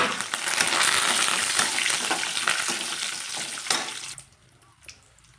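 Curry leaves hit hot oil for tomato chutney, giving a loud crackling sizzle that fills most of the clip before dropping suddenly to a quiet bubbling near the end.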